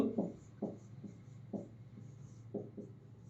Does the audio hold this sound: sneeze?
no